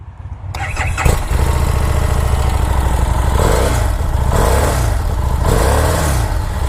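A 2017 Harley-Davidson Street Rod 750 fitted with a Vance & Hines 2-into-1 competition exhaust cranks and fires up, then settles into a loud, close, steady idle with a few mild rises in revs.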